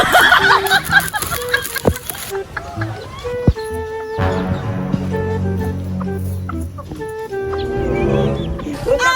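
Chickens cluck and squawk in a busy farmyard, with several birds calling over one another amid background clatter and a few voices.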